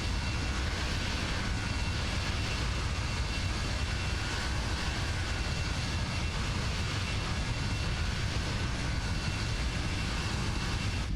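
FSLabs A321 jet engines in a flight simulator game drone continuously at a steady, loud level, a broad roaring rumble with no talk.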